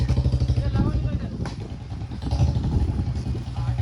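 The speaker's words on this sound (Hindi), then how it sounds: "अपनी बुलेट लग गई लाइनअप पे, 1 2 स्प्लेंडर, फिर एक बुलेट BS6" Royal Enfield Bullet BS6 motorcycle engine running in a lineup beside Splendor bikes, a low thumping throb with pulsing idle beats and a little clatter, near, under people talking.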